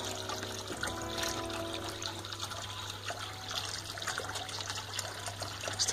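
A bearded dragon, or pogona, splashes in shallow bath water, giving a steady close trickling and dribbling wash with small splashes, mixed over a constant low hum, with no talking.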